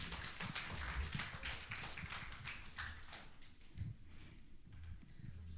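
A congregation at a family church service claps together in a dense, even patter of hands, fairly quiet and distant, lasting the whole stretch without talk.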